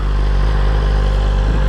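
A 2022 BMW S1000RR with a Stage 2 Brentuning tune and aftermarket air filter drones loud and steady while riding, its engine a constant close roar with no pauses.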